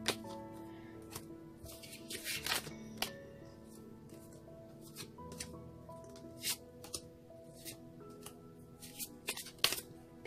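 Angel oracle cards being shuffled by hand, a soft papery riffling with sharp flicking snaps scattered irregularly through the stretch, fairly close and quiet, with no talking over it.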